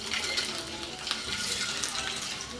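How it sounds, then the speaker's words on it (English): Eggs frying in a tablespoon of hot oil in a non-stick pan over a medium flame, giving a steady, fairly soft sizzle and crackle that holds evenly throughout without any voices. "Now let's add the eggs to it. We'll fry them for around a minute."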